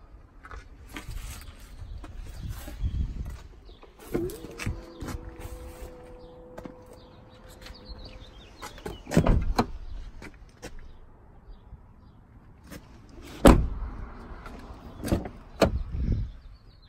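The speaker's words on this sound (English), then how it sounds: "Does have the power lift gate." The power liftgate of a 2015 Chevrolet Tahoe LTZ whirs with a steady electric motor hum for a few seconds. Scattered clunks and knocks from handling the vehicle fall before and after it.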